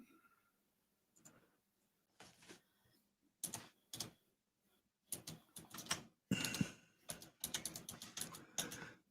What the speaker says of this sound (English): I hear the keyboard.